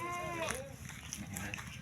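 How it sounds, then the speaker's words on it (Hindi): Newborn baby goats bleat in short, thin cries at home, heard faintly under nearby chatter and household noise. "हमारी बकरी के दो छोटे छोटे मुन्ने आ गए हैं"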